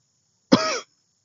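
A voice imitates a cough: one short, harsh throat burst lasting about a third of a second, standing alone in silence.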